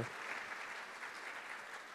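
A church congregation claps during a Sunday service, a faint, continuous patter of many hands from a distance with no talk.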